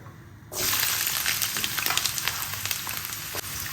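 Ginger goes into hot oil for a raw turmeric gravy and bursts into a loud, close sizzle after half a second of quiet, then crackles steadily with small pops.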